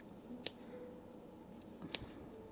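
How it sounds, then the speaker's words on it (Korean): Scissors make two quick, crisp snips as notches are cut into the curved seam allowance of a hanbok collar, faint and close in a quiet room. "곡선이라서 가위밥을 주시면 뒤집었을 때 더 예쁘게 선이 나오거든요"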